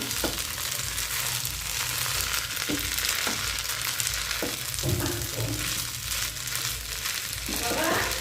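Pasta in a frying pan being stirred with a sauce stirred in, giving a steady continuous sizzle with scraping stir sounds throughout, close and fairly loud with no talking.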